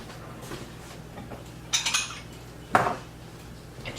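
A bowl is pulled from a stack of dishes with two short bursts of clinking ceramic and cutlery, close and clear against a quiet kitchen.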